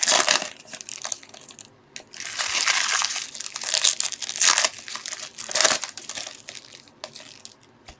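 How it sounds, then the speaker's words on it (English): Foil baseball card packs are crumpled and torn close up, a loud crackling crinkle in repeated surges that rise and fall over several seconds. "We're wasting way too much foil here."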